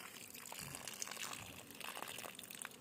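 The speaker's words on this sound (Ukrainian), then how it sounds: "Взяли цей кран, бачите, тече вода." Water runs from a tap in a steady, faint splashing stream lasting a few seconds, with no talk.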